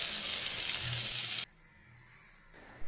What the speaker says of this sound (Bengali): এবার একটা কড়াই কিছুটা সর্ষের তেল দিয়ে তেল গরম করে পেঁয়াজকলিগুলোকে ভেজে নেব